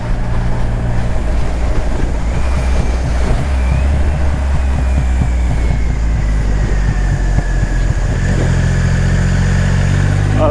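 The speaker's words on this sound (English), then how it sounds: "the lazy lope of that massive engine pumping out 165 horsepower and 221 newton meters of torque in stock form" Triumph Rocket 3 R motorcycle with its massive engine on the move, a steady deep low throb with a loping pulse running continuously under faint wind, no voices.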